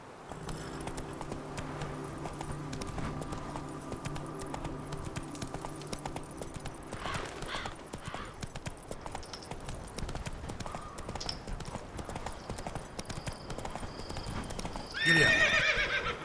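A horse in The Witcher 3 gallops with a steady, rapid clip-clop of hooves, then gives a neigh near the end over a soft ambient bed.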